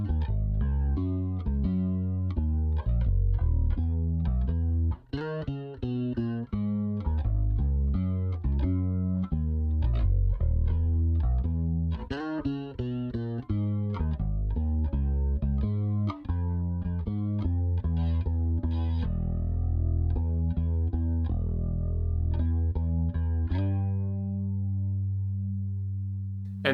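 Patrick's bass guitar line from an indie pop track, played solo, a busy run of melodic low notes with some effected, tuned upper harmonics, steady and up front, settling into a sustained note at the end with no talk.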